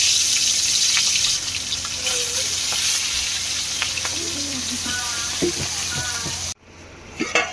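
Small fish frying in a pan of hot oil, giving a steady close sizzle with light clinks and stirring that cuts off sharply near the end. Faint voices come through at times.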